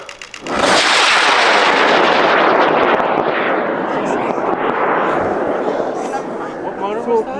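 A high-power model rocket on a K455 motor launches with a sudden loud roaring blast that stays strong for several seconds, then slowly fades into the distance as people shout and talk.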